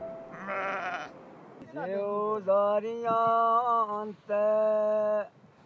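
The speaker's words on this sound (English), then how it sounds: "the bleats of their sheep and goats" Several loud, close bleats from a Bakarwal nomadic herd of sheep and goats in the Himalayas, some short and some drawn out, calling one after another with brief pauses between.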